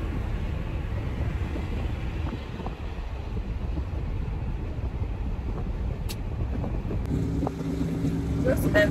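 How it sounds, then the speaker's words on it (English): Steady road rumble and engine drone fill the cabin of a taxi in motion, a continuous low wash with faint wind noise and a few light rattles near the end. "I'm in the taxi going to the location."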